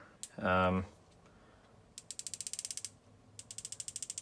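Turret clicks on a Vortex Diamondback Tactical 4-16x44 first focal plane rifle scope, two quick runs of sharp, evenly spaced detent clicks, close and crisp, after a louder brief mechanical ratchet sound near the start.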